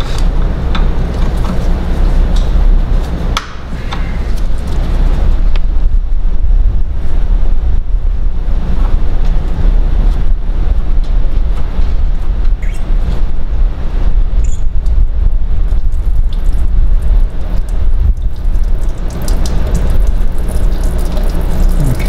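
Coolant draining from the bottom tap of a Dodge Grand Caravan 3.6 V6 radiator, a loud, continuous rushing splash of liquid with a low rumbling undertone.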